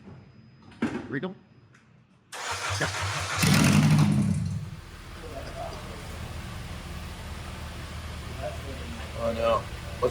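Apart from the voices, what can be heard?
Acura TSX engine cranking but failing to start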